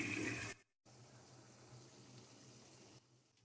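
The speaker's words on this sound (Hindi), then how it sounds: "थोड़ा सा पानी भी ऐड करेंगे ताकि चिकन जले ना।" Water poured into a pan of chicken karahi with tomatoes, a short steady splash up front, a brief gap, then a softer continuous trickle and simmer fading near the end.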